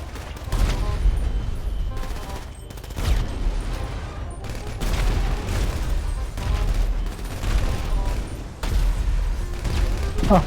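Repeated explosions and bursts of gunfire boom at a gas station in GTA V, where a glitch keeps the explosions going, loud and chaotic, with a faint voice underneath.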